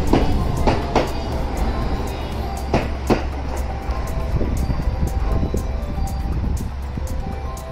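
A JR West 223 series 5500 two-car electric commuter train rolls steadily between Wadayama and Fukuchiyama with a low rumble and scattered rail clicks and thumps, heard from inside or close by.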